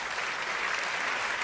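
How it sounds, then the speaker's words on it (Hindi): Steady audience applause at a Hindi debate show, a dense even wash of many hands clapping at moderate level for the full moment, no voices on top. "तालियां बजा दीजिए"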